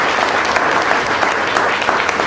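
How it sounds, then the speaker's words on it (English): Sustained applause from an audience at a 30th-anniversary celebration of an organization, dense steady clapping filling the whole moment at close range with no break. "Can we give them a round of applause?"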